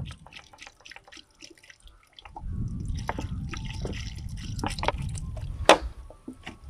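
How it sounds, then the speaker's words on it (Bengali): Cow urine is poured and mixed into a bucket of cow dung slurry for a heap compost, giving a steady wet sloshing and swishing that starts partway through, with a few louder splashes near the end, close and alone. "আমি এই যে জলে গোবরটা মিশিয়ে নিয়েছি, তাতে এবার আমি গোমূত্র যে 1 লিটার নিয়েছিলাম সেটা ওর সঙ্গে মিশিয়ে দেবো"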